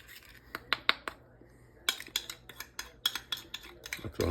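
Deer heart marinade mixture being handled in a pan in a home kitchen, with a run of sharp clinks and scrapes of utensils against cookware, some bright taps close and irregular, with no talking.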